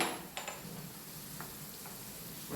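Garlic with salt sautéing in a pan for a Kerala beef roast, a soft, steady sizzle with a few faint scraping stirs and light ticks, heard close and without talk.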